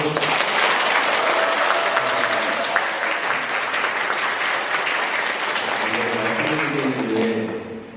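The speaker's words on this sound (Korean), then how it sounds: "박수, 환영의 박수" A parish audience at a Lenten lecture in a Catholic church gives a guest friar sustained welcoming applause, a full, dense clapping from many people that holds steady for several seconds before tapering off, with a few voices faintly beneath.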